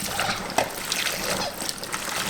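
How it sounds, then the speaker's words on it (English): Dried beans being rinsed in cold water, with splashing and sloshing as they are stirred by hand, steady and close throughout. "You just rinse them really good. I use cold water."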